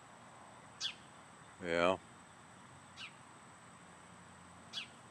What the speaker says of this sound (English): we've got this sparrow right here